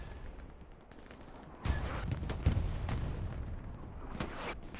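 A Stuart tank is destroyed by a Panzer IV in a video game battle on the Carentan map: a sudden sharp blast breaks a quiet background, then scattered gunfire cracks and bursts follow at moderate distance, with no talking.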